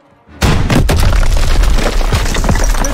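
A loud, close blast from a launcher breaching a weak wall in the World War II shooter Call of Duty WW2, with a sudden heavy boom and a long rumbling debris tail, no speech.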